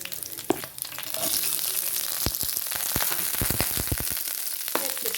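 Chopped onions for chicken curry sauté in a hot pan, a loud continuous sizzle that swells after a moment, broken by a run of quick spatula clicks and scrapes, close up with no voices.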